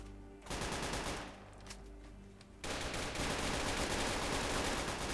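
Rapid, dense automatic gunfire in a prison roleplay video game, loud continuous bursts with a brief lull in the middle before the firing resumes even harder.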